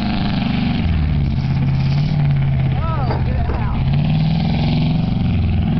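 An old truck engine running in second gear, a steady low mid-range drone that holds throughout, with people talking over it nearby.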